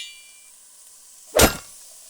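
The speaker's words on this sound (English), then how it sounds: "And we get stirring." A spoon stirs onion and garlic in a pot on the stove for roast beef po' boys, producing one sharp metallic clank against the pot amid otherwise near-quiet surroundings.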